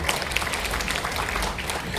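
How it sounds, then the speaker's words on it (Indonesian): Applause from an audience at a general-session class of a national convention in Yogyakarta, a short burst of dense clapping that stays steady throughout with a faint murmur underneath. "Tepuk tangan dong buat kita semua."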